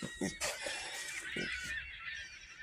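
Several gulls calling outdoors, with loud, close, harsh honking cries repeated in quick succession over a background hum.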